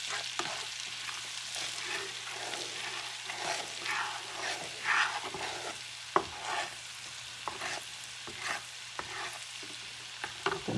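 Minced garlic sizzles in a pan over medium heat, a soft steady hiss broken by scraping stirs and a few sharp clicks of a utensil against the pan.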